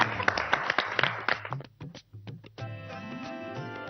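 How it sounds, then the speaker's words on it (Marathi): Audience applause at a Marathi TV serial award event: a crowd claps in a dense burst of loud hand claps that thins out and then trails into a sustained musical tone. "टाळ्या."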